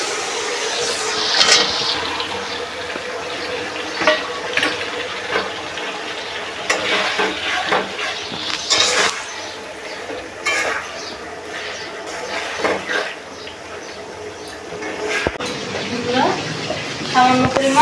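Pointed gourd (potol) hitting spice paste in a pan for a Bengali doi potol curry, with an uneven run of spoon scrapes and utensil clatter over a steady sizzle that stays fairly loud throughout.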